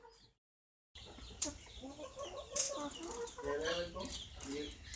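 Backyard chickens, including BV-380 hens, cluck and murmur nearby after a brief silence, a steady low chatter of several birds with a few sharper calls.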